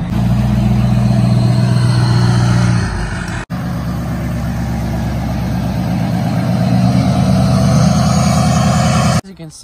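A lifted Duramax diesel pickup truck with a big body lift revs and idles near a mud pit, a loud, deep engine rumble that rises and falls, briefly drops out, and returns, with voices talking over it.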